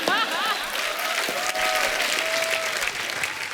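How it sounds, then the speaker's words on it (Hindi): Studio audience applause on a comedy show, a full, steady wash of clapping from a large crowd, close and loud, with a few faint voices and tonal sounds mixed underneath. "500 लोग तालियां बजा रहे हैं"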